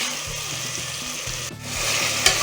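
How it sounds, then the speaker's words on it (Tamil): Marinated mutton sizzling in a pan with smashed tomato and onion for goat biryani, a steady crackling fry with rhythmic scraping and stirring strokes of a spoon, close and continuous, with one brief pause midway and no speech. "மட்டன் நல்லா வதக்குங்க"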